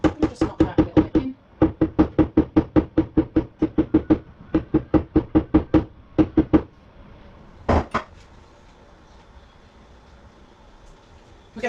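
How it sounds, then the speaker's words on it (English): A piece is tapped into a kitchen cabinet hinge during a repair, with dozens of sharp, evenly spaced knocks in quick runs separated by short pauses, then a single louder knock before quiet. "We'll just knock that a little bit in."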